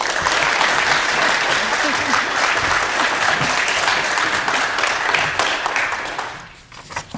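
An audience at a state administration event applauds a speaker being welcomed, dense sustained clapping from a crowd that tapers off near the end, with some speech mixed in.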